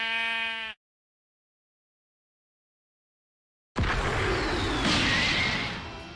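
One short, clear sheep bleat sounds up close, followed by a few seconds of silence and then a whooshing, crashing burst of sound effects.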